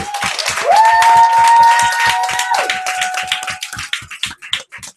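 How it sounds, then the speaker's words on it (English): Applause for Dr. Clay at a training event: a dense run of claps, loud and close at first, thinning into scattered separate claps toward the end, with a sustained musical tone over the first half. "So everybody put your hands together. Thunderous applause for Dr. Clay."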